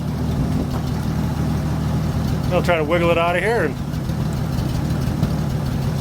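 A 1962 Ford F-350 farm truck engine idles steadily with a low, continuous rumble throughout, while someone talks briefly over it near the middle.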